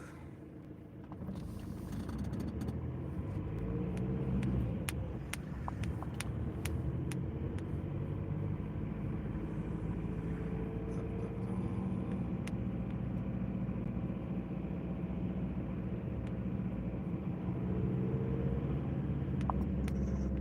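Military vehicle turning around gives a continuous low engine rumble at moderate distance, holding steady for the whole stretch with a few faint clicks over it.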